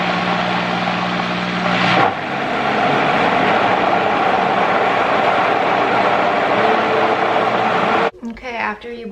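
An electric blender whirs loudly and steadily through roasted butternut squash soup, then cuts off and a person starts talking.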